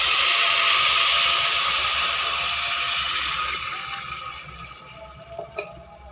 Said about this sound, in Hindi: दाल के साथ जो वाइट चावल बनते हैं ना, तो अब वक्त है इसमें पानी ऐड करने का।